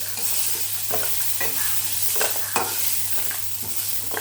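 Tomatoes sizzle in oil in a kadai for a brinjal kuzhambu, a constant close frying hiss broken by several scraping stirs of a spatula, with no voices.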